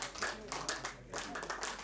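An audience at a blanket distribution drive claps in uneven bursts, the sound blending with an energetic voice speaking over it.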